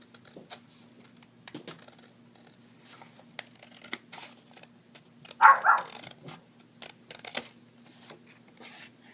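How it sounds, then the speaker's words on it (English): Scissors trim the bottom edge of a handmade paper tractor birthday card in a single short crisp cut, moderately close, surrounded by faint scattered taps and paper handling in a quiet room. "I'm going to go ahead and trim off this edge at the bottom."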